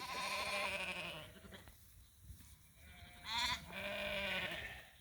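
Sheep on pasture, an old ewe among them feeding on ironweed, with several loud, wavering bleats close by, separated by brief quieter pauses.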